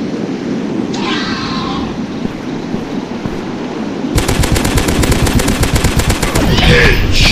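Rapid automatic gunfire from the video game Dinosaurs Hunter, a long loud burst of evenly spaced shots starting partway through over a steady background rumble of wind-like ambience.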